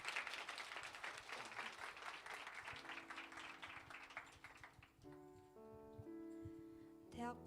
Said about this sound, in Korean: 우리 명진 자매 나올 때 박수로 맞이해 주시기 바랍니다.